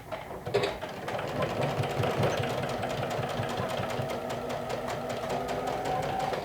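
A sewing machine stitching a quarter-inch single-fold curved hem on woven fabric, running in a fast, steady mechanical rhythm after a brief start, close and continuous with no talking.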